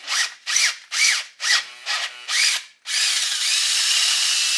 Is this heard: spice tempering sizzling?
no